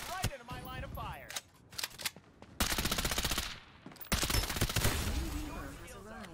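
Gunfire in the shooter game Farlight 84, bursts of rapid automatic shots in several loud runs separated by short gaps, with scattered game effects between them.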